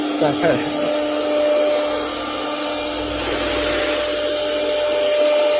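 A CNC router with a Syntec 6MB controller machining, giving off a steady, fairly loud mechanical whir with a constant whine throughout and no clear breaks.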